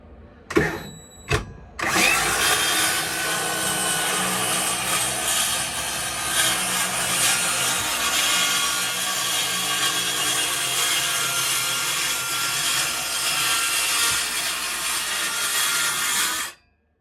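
Hand saw cutting a wooden board clamped for a bookshelf, preceded by a couple of sharp knocks, then a steady, close, loud rasping stroke that runs continuously before stopping abruptly.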